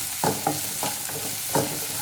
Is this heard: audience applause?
no